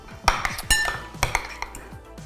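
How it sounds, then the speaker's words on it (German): Spoon stirring a crème fraîche and parsley dip in a bowl, a few close clinks and scrapes against the dish over about two seconds. "Nur noch umrühren und dann ist er auch schon fertig."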